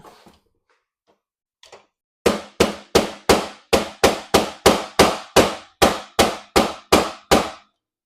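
Fourteen sharp, evenly spaced hammer blows ring out close and loud after a few quiet taps, each strike decaying quickly before the next.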